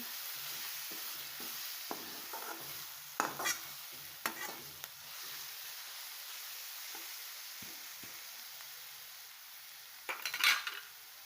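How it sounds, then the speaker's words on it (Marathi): Pithla is mixed and stirred in a pan, a quiet bed of frying sizzle broken by scattered scrapes and clinks of a spoon against the pan, with a louder cluster of knocks near the end. "आता हे चांगलं मिक्स करून घ्यायचं आहे आपल्याला दोन ते तीन मिनिट आपल्याला हे चांगलं मिक्स करायचं"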